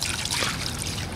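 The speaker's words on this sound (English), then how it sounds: "I got some water running through the oil passages" Water runs steadily through the oil passages of a VW 1600 engine block being rebuilt, a close, continuous hissing trickle with no pauses.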